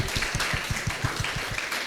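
A crowd at a parish church gathering applauds to welcome guests, steady dense clapping with sharp close claps over a broad wash of hands, fairly loud and sustained throughout.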